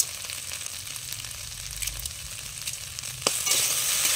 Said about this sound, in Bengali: এবার 3-4 মিনিট মতো একটু নেড়ে চেড়ে কষিয়ে নিতে হবে